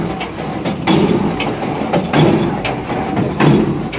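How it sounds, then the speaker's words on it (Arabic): A percussion well-drilling rig pounds away with heavy rhythmic metallic strikes roughly every half second to second, loud and close over a steady mechanical rumble. "هاي طريقة الحفر الإخوان"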